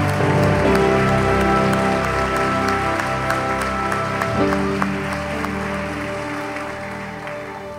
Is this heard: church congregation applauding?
yes